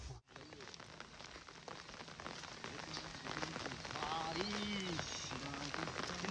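Rain falls in a rural Bengal field hut on a stormy monsoon day, a soft continuous patter in the background while a voice speaks over it.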